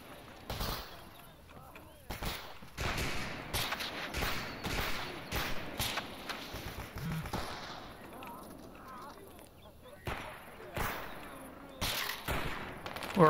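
Gunfire rings out in the STALKER game, sharp loud shots in irregular bursts and single cracks spread across the stretch, with someone talking between and over them.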